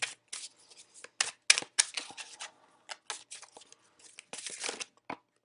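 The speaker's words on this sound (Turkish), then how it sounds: "Evet, sevgili koç arkadaşlarım için böyle son kartların havada kaldığını hissedersem bir kart daha seçiyorum." Tarot cards being shuffled and drawn, a series of quick crisp riffling and slapping bursts in irregular clusters, close and fairly quiet with no talking.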